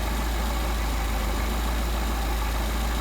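A Mercedes 190SL engine with Solex 44PHH carburetors idles steadily and close up, a constant low rumble with no talking over it.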